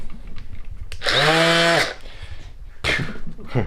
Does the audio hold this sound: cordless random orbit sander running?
yes